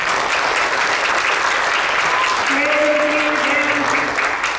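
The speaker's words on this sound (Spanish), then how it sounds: "Denle un aplauso al Señor." A church congregation claps loudly and continuously in praise of the Lord during a service with a missionary. Faint sustained tones sit underneath the thick, even applause.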